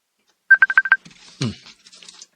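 A telephone dials with six quick, evenly spaced tones in a row, followed by a brief stretch of soft voice-like sounds.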